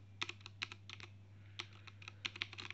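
Typing on a HyperX Alloy FPS Pro mechanical gaming keyboard, a quick irregular patter of close, crisp key clicks in short bursts over a steady low hum, with no voices.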